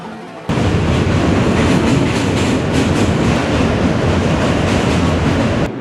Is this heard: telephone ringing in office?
no